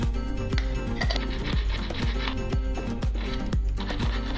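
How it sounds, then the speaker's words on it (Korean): Rhythmic hand sawing through stainless steel, with evenly spaced strokes about twice per second, close and grinding, a harsh rasp on each pass. "3교시 톱질."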